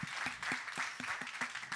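Audience at a Silicon Valley supply chain and advanced manufacturing summit clapping for pitching founders, a soft, even wash of many hands with a few distinct nearer claps keeping a regular beat.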